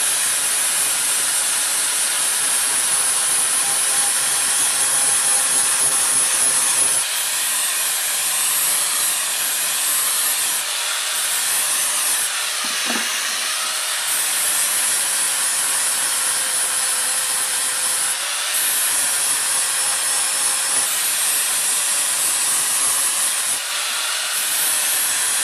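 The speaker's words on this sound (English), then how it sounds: "I use the flap disc sometimes is to sharpen lawnmower blades" An 80-grit flap disc grinding a lawnmower blade outdoors, a continuous high-pitched abrasive whine with steady rasping that dips briefly and resumes, loud and close, with no talking.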